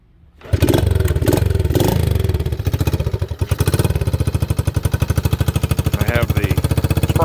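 A 1971 Honda SL70 with its spark arrestor removed fires up from cold after a kick start, then settles into a loud, close, rapid popping idle with uneven throttle blips.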